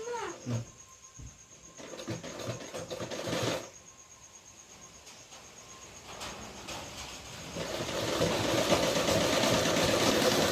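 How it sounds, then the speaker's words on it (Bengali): A sewing machine stitches a folded neck band onto a princess-cut blouse, whirring in short, quieter runs at first, then building into a steady, louder mechanical drone toward the end with no voices. "সেলাই স্টার্ট করলাম"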